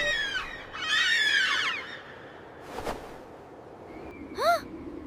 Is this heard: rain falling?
no